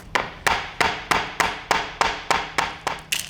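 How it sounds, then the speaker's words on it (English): Black pepper being bashed to crush it coarsely: about ten sharp, evenly spaced knocks, close and distinct, each fading quickly, with the last few coming faster. "I'm gonna try just bashing some black pepper"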